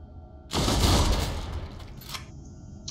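Gunfire from the Iron Wolf's weapon in the Deathwatch Enhanced Edition video game erupts as a loud, dense burst that starts abruptly, then trails off into a rattling tail and a smaller second crack, with no talking.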